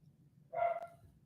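A single dog bark rings out, short and fairly close, over a quiet low background hum.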